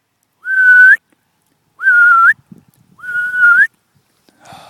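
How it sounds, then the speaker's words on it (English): A person whistles three times to call a puppy, each a clear rising note with a quick upturn at the end, separated by short pauses, close and loud with faint rustling between. "Luckily, she responds to a whistle."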